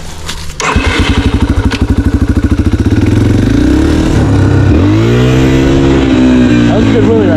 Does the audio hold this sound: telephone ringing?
no